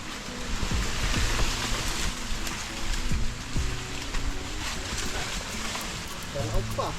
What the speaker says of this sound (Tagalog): Malakas yung ulan ah.